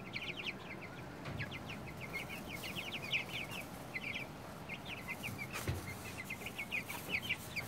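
Baby chicks peep in rapid high chirps outside their brooder box, many small calls overlapping close by against a low background hum, no talk.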